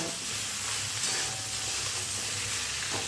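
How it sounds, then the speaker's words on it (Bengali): Potatoes and brinjal frying together in a pan, an even, dense sizzle that holds steady and fairly loud throughout, with faint stirring underneath. "এবারে আলুর সঙ্গে এই বেগুনগুলো একটু ভালো করে ভেজে নেব"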